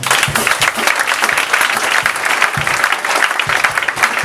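A church congregation claps in praise of the Lord, loud continuous applause from a crowd with a few sharper individual claps standing out, sustained throughout.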